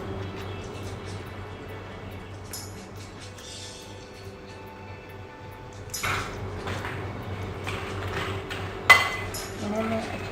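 Roasted dry fruits are stirred into a bowl of homemade nimko, giving soft clinks and scrapes. These grow busier and louder toward the end over a low background hum, with quiet speech in places.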